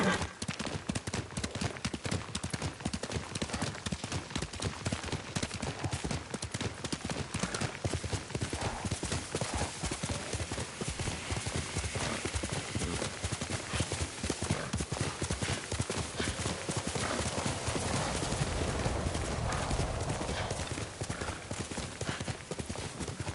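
Rapid, steady hoofbeats of a galloping horse in the video game Ghost of Tsushima fill the whole stretch, close and loud, with a short whinny breaking through now and then.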